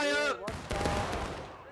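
Rifle volley fire in the Civil War game War of Rights, a shouted command followed by a loud ragged crash of many muskets going off together, the blasts rolling and fading over about a second.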